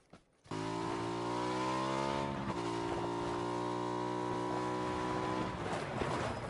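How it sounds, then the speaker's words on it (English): A motorbike engine in a first-person shooter video game starts abruptly and drones loudly and steadily, its harmonic whine shifting slightly in pitch as it runs on. "Oh, motorbike."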